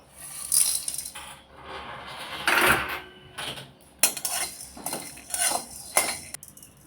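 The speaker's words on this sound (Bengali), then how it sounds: "শুকনা খোলাতে গোটা মশলাগুলো টেলে নেব" Whole spices dry-roasting in a dry pan for a potato curry, heard as intermittent rattles, clinks and scrapes of spices and utensil against the metal, close and irregular, with no talking.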